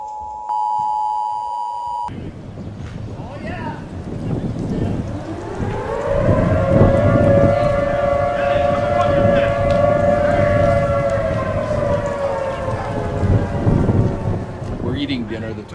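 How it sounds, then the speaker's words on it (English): A civil defense tornado warning siren in Lincoln County winds up and holds a long, loud wailing tone after a brief electronic beep tone at the start, steady and sustained over distant storm noise. "the tornado sirens first went off"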